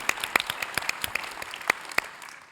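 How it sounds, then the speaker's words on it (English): Audience applause at a conference luncheon plenary, honoring the staff and board: scattered, fairly sparse claps in an uneven rhythm that thin out and fade within a few seconds. "Just a huge round of applause for the staff and the board of MIE"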